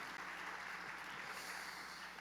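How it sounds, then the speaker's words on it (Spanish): A church audience gives a welcoming round of applause, a faint, steady patter of many hands with no voices over it. "Este gran aplauso es para cada uno de ustedes. Es un aplauso de bienvenida"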